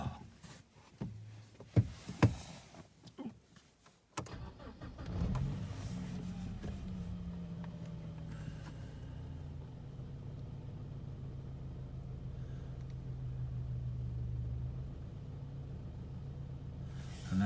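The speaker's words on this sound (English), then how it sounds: "And then start the car." A 2007 BMW 318i engine, after a rocker cover gasket and Valvetronic motor change, cranks briefly and catches, then settles into a steady, low idling rumble that carries on evenly.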